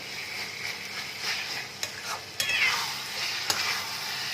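Raw mango mustard chicken being stir-fried in hot oil, a steady near sizzle with scraping stirs and a few sharp utensil clinks against the pan, no talk.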